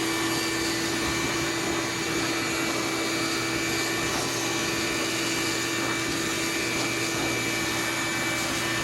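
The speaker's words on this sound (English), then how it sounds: "I'm going to put on my mask and use the vacuum while I'm brushing" A vacuum cleaner draws soot out of a blocked boiler heat exchanger during brushing, a loud, steady motor roar with a constant whine that holds unchanged from start to finish.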